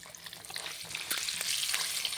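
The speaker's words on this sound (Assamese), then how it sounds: "মই তেল দি পিনে কণী দুটা ধুনীয়াকৈ ভাজি লৈছোঁ" Two eggs frying in oil in a pan, a soft continuous sizzle with small crackles that grows slightly louder midway, close by with no talking.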